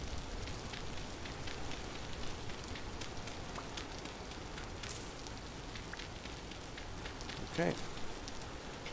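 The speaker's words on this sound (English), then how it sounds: "It's raining" Rain falls steadily in the survival game Vintage Story, a soft continuous patter and hiss with a brief louder rustle near the end, while a person briefly speaks over it.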